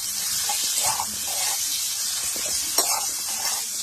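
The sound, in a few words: ginger paste sizzling as it is added to hot oil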